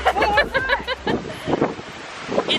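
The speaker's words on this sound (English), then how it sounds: "It is so windy out." Strong wind gusting outdoors during a round of golf, a loud, rough rumble buffeting the microphone throughout, with a voice heard briefly at the start.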